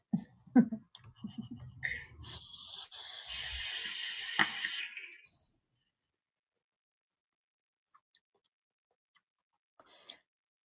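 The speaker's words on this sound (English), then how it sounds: "I'm hitting that at 8 watts and I'm actually going to turn it up" A vaporizer hit at 8 watts gives a sharp, close hiss lasting about three seconds, preceded by brief clicks and rustling and followed by silence with a few faint ticks.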